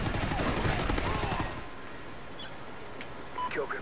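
Honey Badger rifle fire in Call of Duty: Ghosts, a quick burst of close, dense shots for about a second and a half, followed by quieter game sounds and faint beeps.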